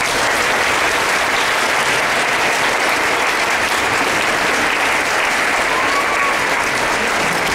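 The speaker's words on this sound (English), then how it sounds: "So let's give them one more round of applause." Sustained audience applause fills a school spring concert for sixth graders, a dense steady clatter of many hands clapping from start to finish with no pause and no voices rising above it.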